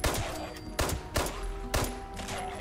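Gunshots in the video game Fallout 76: three loud, sharp blasts spaced under a second apart, each with a ringing echoing tail, up close and with no talking.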